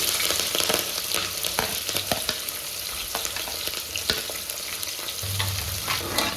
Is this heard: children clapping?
no